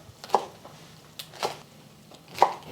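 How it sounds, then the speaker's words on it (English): A knife cuts green onions into two-inch pieces on a board, giving three sharp, separate chops spaced about a second apart. The chops are close and fairly quiet, with no talking. "We're just going to cut these into 2-inch pieces."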